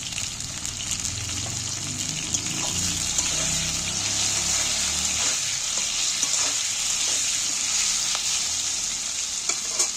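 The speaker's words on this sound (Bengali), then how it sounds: "ভালো করে তেলের মধ্যে ভেজে নেব" Oil sizzles and crackles steadily in a pan as jackfruit is fried with a little salt for a Bengali echor kalia, a loud continuous frying hiss with faint occasional scrapes and no voices.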